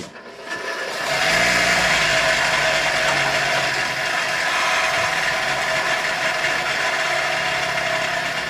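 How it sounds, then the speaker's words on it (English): A bench grinder wears down the end of a copper plug wire for a 1932 Chevy, a loud steady grinding whine that starts after a second and holds for the rest, with no talking. "Then we take it to the grinder and get her down so that it'll fit inside that"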